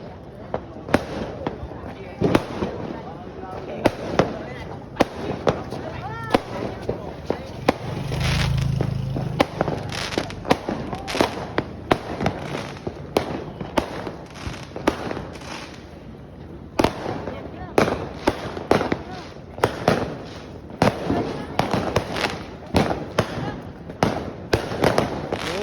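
New Year's Eve fireworks going off in a rural village, a long run of sharp cracks and booming bursts at varied distances, some close and loud, with scattered people's voices talking in between.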